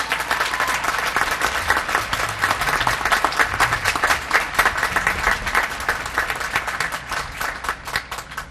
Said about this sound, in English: Can you give them a big applause,